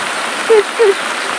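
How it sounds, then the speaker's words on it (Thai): Steady rain falls at a rural home in Laos, a dense continuous hiss with two faint brief tones rising briefly above it. "ตกลงมาฝนตกอีกแล้ว"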